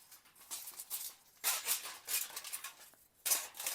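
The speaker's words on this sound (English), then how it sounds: "aluminum foil and cut it with your scissors" Scissors snip repeatedly through folded layers of aluminum foil, giving close, crisp crinkling bursts in uneven clusters with brief pauses between cuts.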